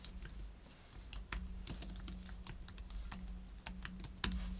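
Computer keyboard typing while a page is laid out, the keys clicking in quick irregular bursts, close and clear over a low steady hum, with no voices.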